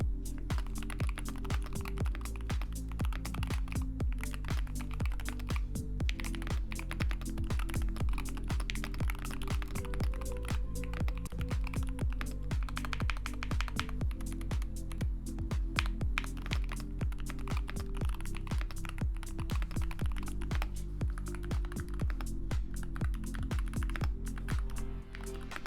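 Rapid, steady keystrokes on a Keychron K10 HE magnetic keyboard, a dense close-up clatter of key presses that runs continuously for the whole stretch with a sustained low hum underneath.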